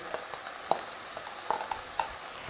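Pineapple pieces being mixed with banana in a pan for sweet South Indian madhura pachadi: soft scattered spoon clicks and scrapes over a faint, quiet sizzle, with no voices.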